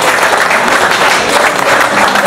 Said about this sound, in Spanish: un aplauso para el Perú, por favor, para los peruanos en el exterior